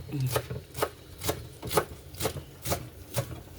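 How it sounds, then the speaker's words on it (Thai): A knife chops coriander on a cutting board in a home kitchen while pork offal soup is being prepared, with seven crisp, evenly spaced chops in a steady rhythm, close by. "นี่แม่ผมกำลังซอยผักชีเลยนะครับ"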